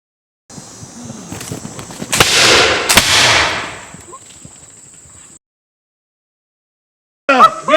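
Muskets fire in a Battle of Kings Mountain reenactment: a couple of sharp, loud reports amid rumbling, scattered battle noise and hoofbeats, fading to silence before a voice cuts in at the end.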